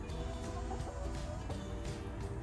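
Backyard chickens cluck and murmur close by over a steady low rumble, with a few sharper clucks popping out now and then.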